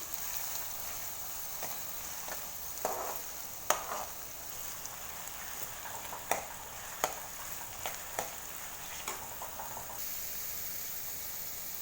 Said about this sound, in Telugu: ఒక చిన్న వెల్లుల్లి, పచ్చిమిర్చి, కరివేపాకు, ఉల్లిపాయలండి. ఇవి బాగా ఫ్రై అవ్వాలి.